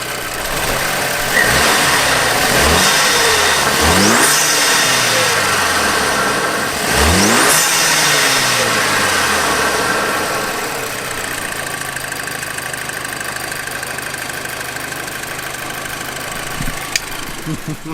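A Volkswagen Golf GTI with its first performance modifications revving hard several times, loud and close, each rise and fall in pitch clear, then settling to a rough idle with a faint click near the end.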